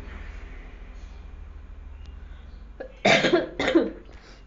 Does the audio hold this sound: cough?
yes